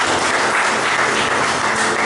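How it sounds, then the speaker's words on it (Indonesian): Congregation applauding during a Sunday Baptist church service, dense steady clapping filling the room at close range, with no voices over it. "Boleh tepuk tangan."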